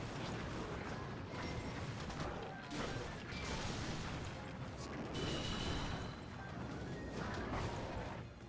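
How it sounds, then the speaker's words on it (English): Crashing, smashing bursts and rumbling impacts from explosions in the video game Hyrule Warriors: Age of Calamity, dense and continuous throughout with several heavier blasts, a busy battle mix with no clear voices. "these explosions are not helping"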